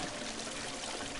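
Water pours steadily through pipes in a Christmas Stories Nutcracker video game, a continuous close rushing stream with no break over the short stretch and no talking.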